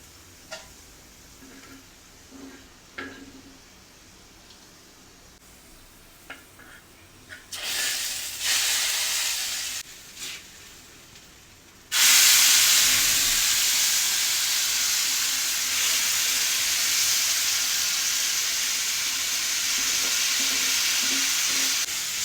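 Onions sizzle in hot oil as a baghar tempering for haleem, starting with scattered stirring clinks and short bursts, then breaking into a loud, steady frying hiss for the last ten seconds.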